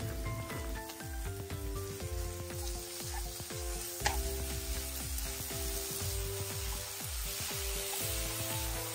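Minced meat sizzles and fries steadily in a pan with chopped shallot, garlic and a little oil, a dense continuous crackle with occasional stirring clinks and scrapes, close and fairly loud, no voices.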